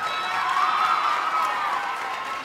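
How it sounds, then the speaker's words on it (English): A middle school assembly crowd claps and cheers steadily for a student who recited pi, a dense, even wash of applause with shouting voices mixed in, lasting the whole stretch without a clear break. "So let's all give Roger a big round of applause."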